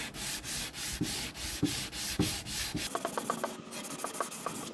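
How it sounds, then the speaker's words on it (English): Folded sandpaper rubbed by hand along the corners of a dresser being stripped, a rhythmic scratchy back-and-forth sanding close up, the strokes growing shorter and quicker near the end. "I'm just going to sand by hand."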